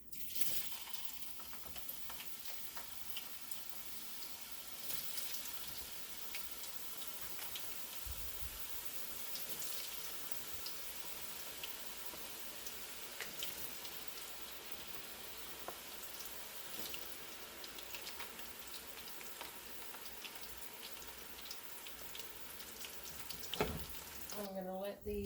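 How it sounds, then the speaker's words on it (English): Potatoes cut for French fries frying in hot oil, a steady, faint sizzle running throughout with occasional clinks and light stirring noises. "I am ready to put these potatoes in here. I'm just going to drop them down and cook them"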